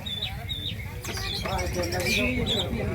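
Bright, whistled phrases of a white-rumped shama ring out over a noisy crowd of talking people at an Indonesian songbird contest, the bird fairly clear above the chatter.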